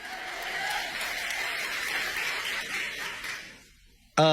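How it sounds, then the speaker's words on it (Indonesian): Audience applause in a hall after a sermon, a sustained wash of clapping from a crowd that fades out over several seconds before a voice begins. "Jadi tepuk tangan dulu yang meriah buat kalian."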